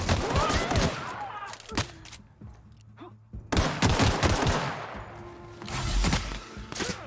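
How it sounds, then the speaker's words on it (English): Gunfire from The Outer Worlds video game comes in loud, dense bursts separated by brief lulls, with someone talking between the volleys. "Stop shooting my Parvati."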